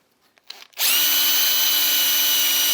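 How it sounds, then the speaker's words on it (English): A power drill with a 2 mm bit starts up and whirs steadily for a couple of seconds, a loud, close, continuous high whine while boring a small pilot hole. "and just drilling a couple of pilot holes"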